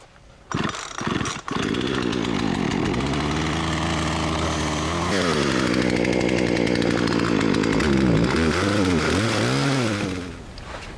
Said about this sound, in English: It's a piece of crap chainsaw, but it just has to fire up, right?